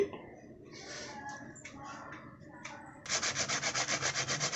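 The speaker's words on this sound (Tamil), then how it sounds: "இந்த கட் பண்ண பூசணியை இந்த மாதிரி ஒரு கேட்டரில் துருவிக்கலாம்" Ash gourd being grated for halwa on a handheld grater. A voice and light handling sounds come first, then quick, evenly spaced rasping strokes sound up close and loud until the end.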